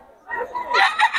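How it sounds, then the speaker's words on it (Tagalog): A gamecock rooster crowing close by, one brief loud crow rising in pitch and breaking into a ragged call, with faint background noise. "Ito yung manok nyo"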